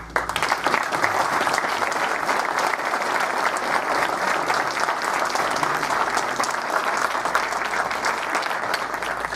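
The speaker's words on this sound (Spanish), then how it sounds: "Recibamos a la mesa con un fuerte aplauso" A seated audience at a book presentation greets the panel with strong applause, dense and sustained clapping at an even level from start to finish.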